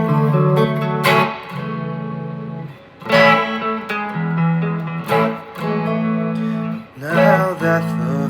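Guitar strums a chord progression in a slow repeating cycle, each chord struck firmly and left to ring, with no voice over it.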